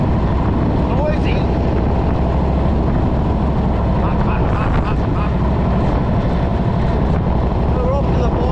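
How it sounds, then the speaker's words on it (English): A chopper motorcycle rides down the road, its loud, steady engine drone and rumble joined by heavy wind buffeting the microphone throughout, with a rider talking over it. "This bike hasn't been run in nearly a month, so time to get on it and go down the road."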